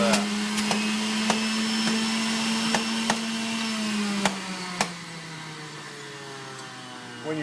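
An electric juicer at a kitchen counter gives off a steady, loud motor whine with a constant hum throughout, broken by several short sharp clicks and knocks as produce drops in, then settling a little quieter near the end.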